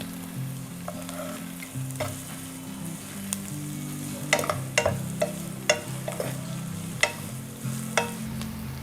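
Crushed ginger and garlic frying in oil in a pan for a Kerala-style chicken and ash gourd curry, a steady close sizzle punctuated by repeated sharp taps and scrapes of a spoon stirring, no talking.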